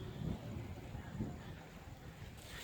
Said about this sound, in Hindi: ये तेज़ तेज़ हवाएं चलनी शुरू हो गई हैं